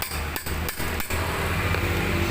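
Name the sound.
hammering the front shock of a Honda Scoopy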